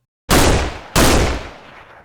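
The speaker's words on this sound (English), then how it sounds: "Suddenly a second gunshot echoed." Two sharp, loud gunshots ring out about half a second apart in a S.T.A.L.K.E.R. setting, each blast trailing off in a booming echo.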